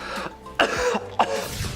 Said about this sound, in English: Just coughing non-stop while shaving your head so you don't get fleas.